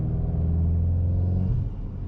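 A car in sport mode lifts off the throttle, and its engine gives a deep, loud rumble from inside the cabin, then drops in tone partway through with a slight kick.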